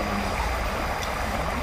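A clean river stream in a Jakarta park flows steadily, a continuous broadband rush of water filling the short stretch with no talking.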